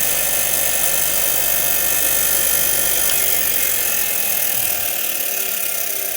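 A Scheppach bench grinder fitted with a brass wire wheel and a standard grinding wheel runs at full speed, a loud steady high-pitched motor whine with a broad hiss, constant and close throughout.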